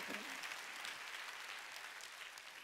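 A church congregation claps steadily during a Sunday worship service at a Korean church, broad dense applause filling the room, with a brief voice at the very start.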